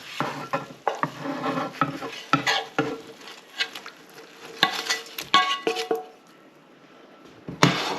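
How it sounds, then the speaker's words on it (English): Meatballs dropped into sauce in a deeper pan for meatball sandwiches, giving clattering knocks and splashes with soft sizzling and stirring over about six seconds, a short quiet gap, then one more clatter at the end. "I'm going to stick these meatballs in."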